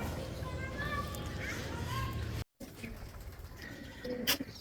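Soft coos of racing pigeons sound nearby at a loft while children's voices and chatter play in the background, with a brief dropout midway.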